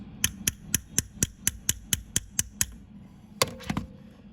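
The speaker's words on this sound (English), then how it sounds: "we're going to give it a few more smacks" Ten sharp, evenly spaced metallic smacks strike a 1960s Seiko 5740-8000 Lord Marvel watch case as someone tries to open it, followed after a pause by a few more clustered knocks, close and crisp.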